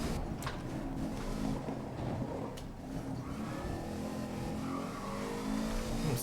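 A car engine in GRID 2019 revving after a downshift, a steady rising and falling motor roar with gear-change surges, continuous and moderately loud.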